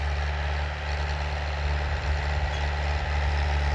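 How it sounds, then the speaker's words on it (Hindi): A farm tractor working a wheat field during sowing, its heavy diesel engine droning in a deep, steady rumble that stays loud and close throughout, with no talking. "वो आ गया हमारा ट्रैक्टर"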